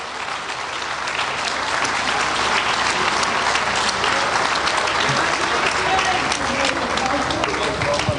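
Audience at a Bahrain hackathon event claps loudly and steadily for the winners and participants, a dense, continuous patter of many hands lasting around eight seconds.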